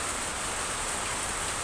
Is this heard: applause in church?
no